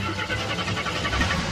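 Rough mid-pitched rumble of an old AMC Gremlin car engine cranking and catching, steady and fairly loud over a short stretch, with no clear talking.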